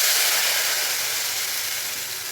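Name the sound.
kadhi batter of curd and gram flour poured into sizzling tadka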